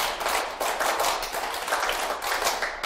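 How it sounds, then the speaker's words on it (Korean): A roomful of people claps together in the quick, patterned World Cup rhythm at a lecture session, dense and steady throughout with no talk over it. "자, 월드컵 박수로 하겠습니다."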